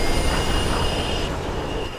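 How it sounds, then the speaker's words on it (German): Train braking in a tunnel in the Mirror's Edge video game: a loud, continuous metallic rumble with high, sustained wheel squeal that eases off toward the end, with no voices. "jetzt stoppen die Cops die Züge in den Tunnel"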